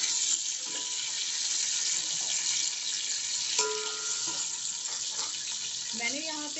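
Boiled mutton fries in cooking oil with browned onions, a close steady sizzle and crackle with occasional stirring clinks, and someone talks over it.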